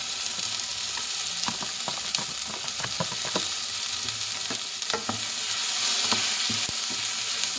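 Chopped tomatoes and leeks fry in a pan for bread kottu, a steady close sizzle broken by sharp scraping stirs and spatula knocks, with no talking.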